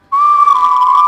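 A loud, piercing two-finger whistle, one steady shrill tone held for about a second, close and alone.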